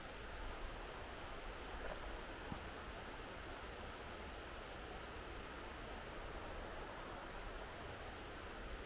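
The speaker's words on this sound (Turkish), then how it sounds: "Abi rüzgar şuradan geliyor." Steady, broad rushing wind blows without pause on Haldızen Mountain, a constant roar with no voices or other distinct sounds.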